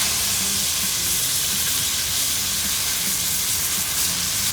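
Meat sears in two scorching-hot stainless steel pans with rosemary, a dense, continuous sizzle and hiss heard up close and loud throughout, with no talking.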